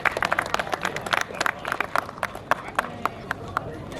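Audience at the Rustival 2 car show claps for the winner Josh, a brisk crowd applause with sharp, uneven hand claps close by that thin out over a few seconds.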